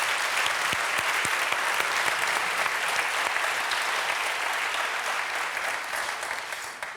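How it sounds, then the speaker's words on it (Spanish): A full audience breaks into loud, sustained applause, a dense continuous wash of clapping that stays steady and fades slightly near the end. "un aplauso para Santiago Díaz, que ayer intervino"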